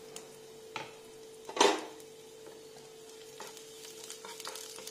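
Finely chopped garlic fries in hot oil with a faint, low sizzle, plus a single sharp clatter of a spoon or pan near the middle and light stirring noises after it, with no voices.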